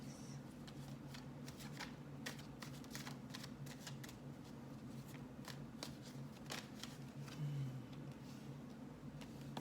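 Tarot cards shuffled continuously at close range, a steady run of soft riffling flicks and brushing taps over low room hum.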